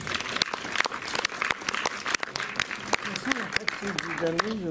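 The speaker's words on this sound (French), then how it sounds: "Vous pouvez les applaudir à nouveau." Festival audience at a film screening in Montreuil claps steadily with scattered sharp individual claps, while a voice begins speaking over the applause near the end.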